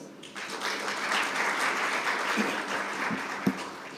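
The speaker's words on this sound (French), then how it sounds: "Donc je vous demande de vous applaudir vous-même." A room full of people applauds steadily, a sustained wash of clapping with a few sharper individual claps near the end.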